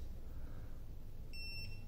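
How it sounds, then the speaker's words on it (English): An igloohome Smart Keybox 2 gives one short electronic beep, thin and high-pitched, over a low steady background hum. "you hear it beep once"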